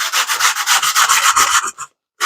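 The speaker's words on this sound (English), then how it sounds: "go ahead and blast them with some sandpaper" Wood boards sanded by hand with sandpaper, with brisk, rhythmic back-and-forth rubbing strokes up close that end in a short pause and one last stroke.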